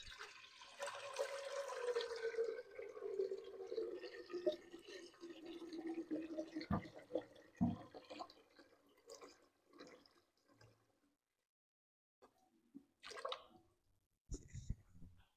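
Water pours and trickles softly while homemade mozzarella is made in a kitchen, a faint continuous wash in the first seconds that thins into scattered drips and small knocks with quiet gaps.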